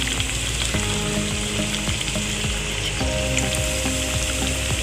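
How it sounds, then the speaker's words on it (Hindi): Chicken donuts filled with raw minced meat fry gently in a pan over low heat, a loud continuous sizzle with bubbling crackle and occasional clinks of a utensil. "अब मैं इसको पैन में डालता हूँ फ्राई होने के लिए"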